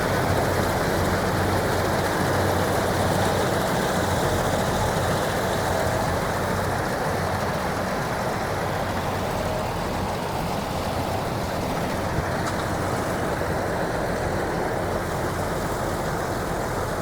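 A harvester machine cuts a green gram field with a steady, loud mechanical roar and rushing hiss that stays even and unbroken throughout, with no talk.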